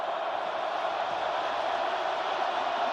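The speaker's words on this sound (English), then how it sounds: "And listen to this crowd." Stadium crowd at an Ohio State versus Penn State college football game, a steady, dense roar of cheering that holds loud and continuous throughout with no break.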